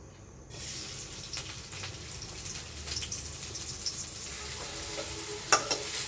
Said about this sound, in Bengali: তারপরে দিয়ে দেব কাটিয়ে রাখা পেঁয়াজ